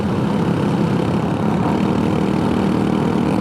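Scooter engine running wide open in third gear up a steep incline, a steady, loud drone that holds throughout without a break.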